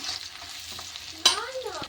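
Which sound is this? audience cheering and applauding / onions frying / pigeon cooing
onions frying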